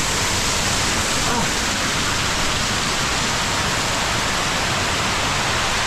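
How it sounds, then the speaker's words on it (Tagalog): A strong river current rushes hard and steadily, sounding like it could flood: a loud, unbroken wash of water noise close by with no pauses. "Parang lumakas yung agos, parang babaha."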